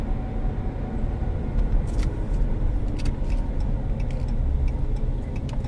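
A 2015 Ram 1500 pickup truck driving with a suspected drivetrain or bearing-type noise, giving a steady, continuous low rumble and road drone throughout, with faint intermittent ticking above it and no talking.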